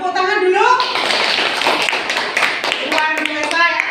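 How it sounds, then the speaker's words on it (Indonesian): Students clapping in a classroom after a group presentation: steady, dense applause throughout, with voices speaking over it at the start and end. "Tepuk tangan dulu."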